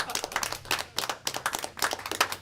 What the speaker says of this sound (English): Mr. Smith a round of applause.